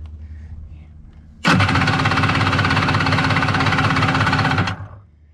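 Kawasaki 1100 jet ski engine cranking: a loud, steady rhythmic churning starts abruptly and runs for about three seconds before stopping, with a low background hum before and after.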